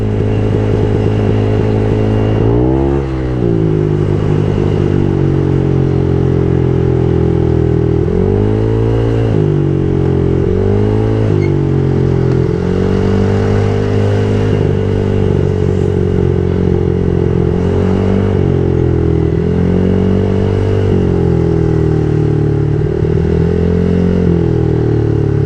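A Honda Click 125i scooter engine runs loud and close, its pitch rising and falling as it revs unevenly and sputters for the whole stretch.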